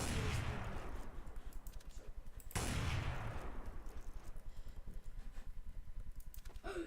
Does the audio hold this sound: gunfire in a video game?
yes